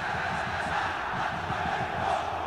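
A simulated stadium crowd of Sport Recife fans in the football video game PES 2020, during a Copa do Brasil match against Fluminense, keeps up a dense, steady roar of chanting and cheering throughout.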